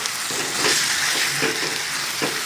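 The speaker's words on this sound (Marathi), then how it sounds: "जे आपण वाफवून घेतलेले वांगे होते ते तेही त्यामध्ये आता मिक्स करून घेऊ" Steamed brinjal stirred into spices for baingan bharta, a loud, close, continuous hissing sizzle from the pan with faint soft stirring strokes beneath it and no talking.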